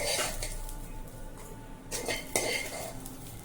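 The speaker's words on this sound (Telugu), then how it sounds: "వేయించుకున్న దాన్ని జార్లో వేసేసుకోండి." Fried ingredients for a chutney clatter into a steel mixer jar, with a few metallic clinks and scrapes of a spoon against the jar at moderate loudness.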